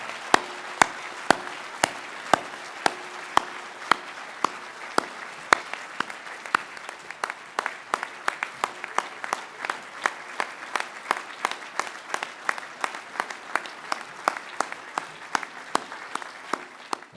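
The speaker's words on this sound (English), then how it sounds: "a giant round of applause for the newest members of the Canadian Mining Hall of Fame" Applause at the Canadian Mining Hall of Fame ceremony for new inductees: a long, steady wash of crowd clapping with sharp individual claps popping out near the microphone in an irregular rhythm throughout.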